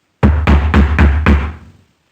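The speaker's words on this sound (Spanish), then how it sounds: "A las 12 en punto se escuchó un golpeteo en la puerta, pero esta vez era un golpeteo fuerte." Five loud, heavy knocks strike a door in an even, quick rhythm, close and booming, with the last blow ringing away into silence.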